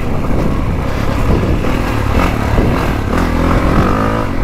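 A 450cc four-stroke motocross dirt bike on a GP track roars loud and close, its engine revving continuously with rough, gritty texture and no pauses.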